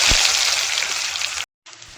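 Spices and onion tempering in hot oil for a Bengali banana curry give off a loud, dense hiss for about a second and a half, then cut off abruptly before a quieter sizzle resumes.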